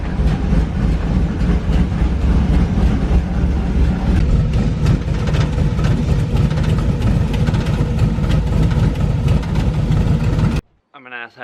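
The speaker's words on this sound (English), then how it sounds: "Let's get some exhaust going" A 1962 shortbed truck's engine runs steadily with a loud, dense exhaust rumble lasting most of the stretch, then cuts off near the end.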